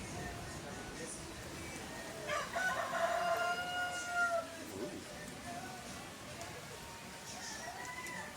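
A rooster crows once in the middle, somewhat distant, over a steady background hiss and faint murmur of activity.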